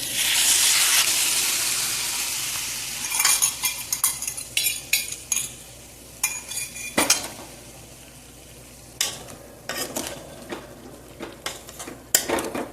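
A spoon stirs tamarind masala into a pan of elephant foot yam curry, with repeated metallic scrapes and clinks against the pot over a soft background sizzle. An early burst of pouring or splashing is followed by irregular stirring strokes.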